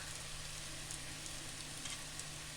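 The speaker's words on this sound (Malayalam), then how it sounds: "ഉള്ളി ഒന്ന് മൂത്ത് വന്നിട്ടുണ്ട്, ചെറുതായിട്ടൊന്ന് മൂത്തിട്ടുണ്ട്" Onions frying in a pan for chicken curry, a faint, even sizzle with a low steady hum beneath and occasional small crackles, no speech.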